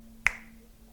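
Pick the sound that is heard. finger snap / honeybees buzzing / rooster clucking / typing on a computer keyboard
finger snap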